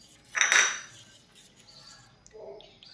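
A spoon clinks against a bowl while fasting idli batter is stirred with a pinch of baking soda. One bright metallic chink is followed by quieter scraping and a soft tap near the end.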